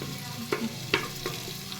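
Cumin seeds and green chilies tempering in hot oil in a pan give a soft, steady sizzle, broken by a few light stirring scrapes and pops, close by with no talking.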